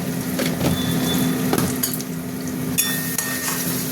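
Spicy pointed gourd mash frying in a pan, a steady low sizzle with scraping and stirring clatter from a spatula, close and continuous with no talking.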